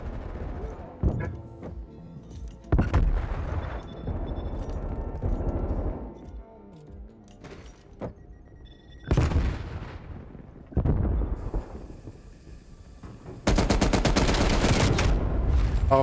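Gunfire in an online shooter video game: repeated loud bursts of shots and blasts with quiet gaps between them, ending in a long sustained volley.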